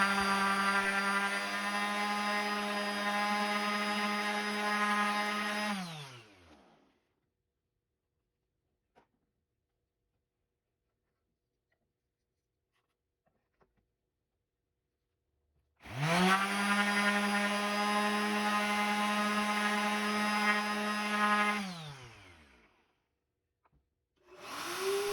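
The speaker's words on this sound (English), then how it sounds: "Now I sand the surface with 200 grit sandpaper to clean things up." A power sander with 200-grit paper smooths an engraved plaque. The loud, steady motor whine runs for several seconds and winds down, then silence follows before it starts up again at full speed.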